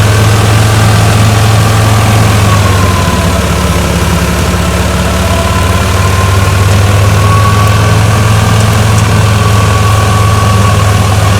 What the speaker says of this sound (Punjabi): ਟਰੈਕਟਰ ਤੇ ਪੂਰਾ ਲੋਡ ਪਾ ਰਿਹਾ ਹੈ